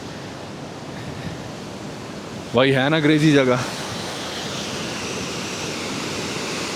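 Rushing mountain water under pressure at Sach Pass, a loud continuous roar throughout, with someone briefly speaking over it.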